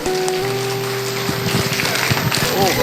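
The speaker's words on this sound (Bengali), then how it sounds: "আপনারা একবার হাততালি দিয়ে এদেরকে অভিনন্দন করুন" Audience clapping at a prize ceremony for a football tournament in Naihati, a dense patter of many hands that builds after a sustained tone at the start, with voices speaking over it.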